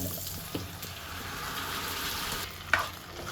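Tomato and green chilli purée is tipped into a hot tempering for instant idli sambar, setting off a steady, moderately loud sizzle with soft stirring and a sharper clink near the end.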